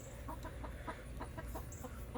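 Chickens cluck in a farming video game, a series of short, soft clucks repeating at an uneven rhythm over a low steady hum, fairly quiet and with no voices.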